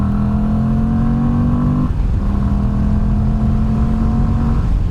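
Moto Guzzi V85 TT adventure motorcycle engine pulling uphill through a small hairpin without a downshift, a loud, close, steady drone with a brief dip in pitch midway before holding its tone again.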